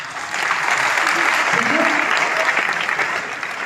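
An audience at a Women's Day celebration applauds loudly and steadily for several seconds, a dense wash of clapping hands.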